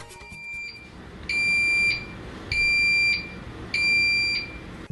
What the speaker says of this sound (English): An alarm will sound if the flow drops below